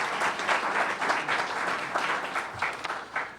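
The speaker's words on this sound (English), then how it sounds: "So we'll give him a round of applause" A meeting audience gives a short round of applause, steady moderate clapping from a room of people, slightly distant and unaccompanied by talk.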